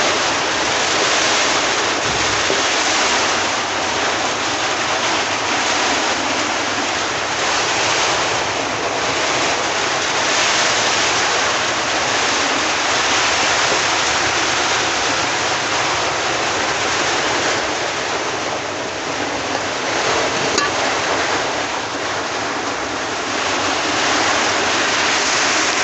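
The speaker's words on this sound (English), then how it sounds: "when the rain persists, we're gonna drown here" Heavy rain pours down on a house as water floods in, a dense, constant roaring wash that stays loud and unbroken throughout, with no voices.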